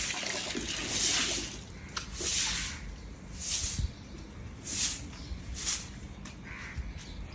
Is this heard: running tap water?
yes